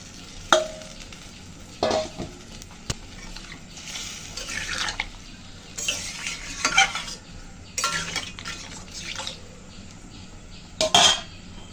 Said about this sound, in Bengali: গামলাটা দিয়ে জল দিয়ে দিলাম।